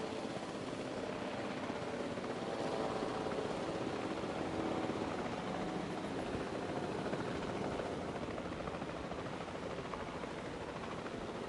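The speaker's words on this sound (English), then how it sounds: "See, helicopter bringing in a load of people." Helicopter arriving at the park's arrival station in the Jurassic World Evolution 2 video game, a steady, fairly quiet rotor and engine drone with no talk over it.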